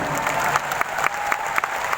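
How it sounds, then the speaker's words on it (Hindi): Audience at a company networking meeting in Delhi claps steadily and loudly throughout, a dense continuous applause with a few sharper claps standing out. "जोरदार तालियां होनी चाहिए।"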